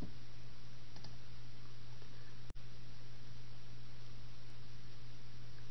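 A single sharp computer mouse click on a Save button, heard once against a steady low hiss and hum.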